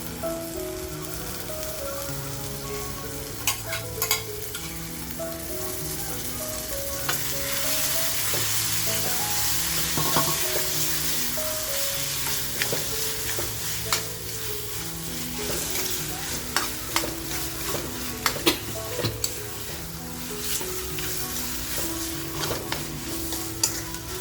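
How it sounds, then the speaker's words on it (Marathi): Boiled goat tripe sizzles steadily as it fries in masala in a pan, with a spoon clattering and scraping against the metal in irregular bursts while it is stirred. "वजरी बघा जी आपण बॉईल करून घेतली आहे ती आता टाकूया."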